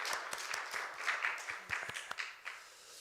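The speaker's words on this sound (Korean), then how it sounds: "하나님께 영광의 박수를 드리겠습니다." A church congregation at a worship service gives faint, scattered applause, a soft patter of irregular claps heard at a distance that thins out after a few seconds.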